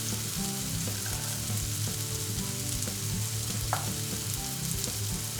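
Vinegar poured with crushed garlic into a hot pan sizzles steadily and close, a dense even crackle with faint stirring knocks throughout, no talk.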